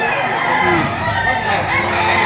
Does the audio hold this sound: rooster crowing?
yes